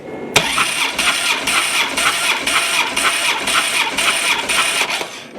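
A 2006 Harley Dyna engine cranks over with one spark plug removed, the starter churning in a steady rapid rhythm of about ten regular pulses, loud and close, never catching.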